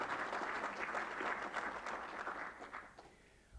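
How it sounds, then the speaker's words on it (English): An audience at a mentorship programme launch bursts into sustained applause for Johann, dense clapping that stays strong before thinning out and fading toward the end, heard at a moderate distance. "Colleagues, a round of applause for Johann."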